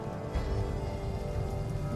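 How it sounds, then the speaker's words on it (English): Rain falling in Fallout 4, a dense, steady patter of drops hitting surfaces, continuous and moderately loud for a couple of seconds with no talk. "the rain in this"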